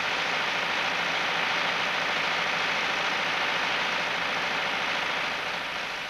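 An International Harvester tractor engine runs steadily under factory testing, a continuous broad mechanical drone with an even hum that holds constant throughout and eases slightly at the end.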